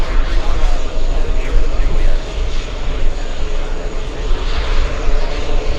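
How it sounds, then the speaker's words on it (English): Aircraft engine roar at JFK airport on a hot, windy day, a loud continuous rumble from an executive jet landing on a parallel runway, heard under a voice and wind. "we have an exec jet"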